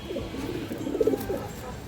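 Chuithal pigeons coo softly in a short, low, bubbling phrase near the middle, set against a steady background hum.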